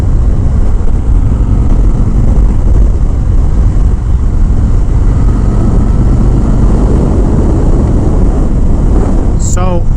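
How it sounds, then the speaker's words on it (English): A 2019 Harley Davidson Road King Special rides at speed, its engine a steady, loud, low rumble buried under heavy wind buffeting on the microphone for the whole stretch, with a brief voice near the end. "the motor on this is extremely smooth, and so is the transmission."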